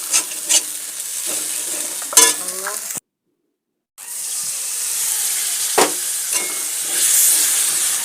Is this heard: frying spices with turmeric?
yes